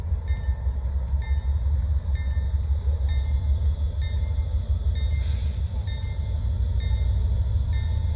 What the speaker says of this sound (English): Here comes the northbound mixed freight.